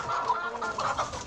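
Chickens of breeds like Blue Brahma, Plymouth and Sussex cluck steadily in a backyard coop, a busy overlapping murmur of clucks at close range with no talking.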